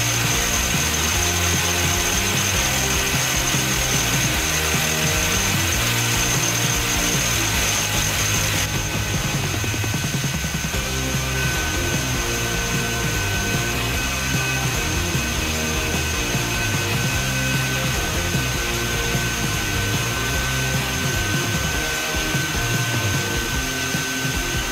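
A milling machine with a small 2mm end mill cuts a 3mm-deep pocket in steel, giving a steady, loud whine and rhythmic chatter that runs unbroken throughout.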